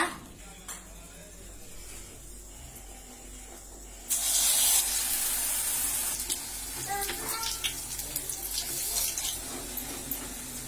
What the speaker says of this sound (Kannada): ಬೇಕಾಗಿರೋ ಅಷ್ಟು ನೀರು ಹಾಕ್ತಾ ಇದ್ದೀನಿ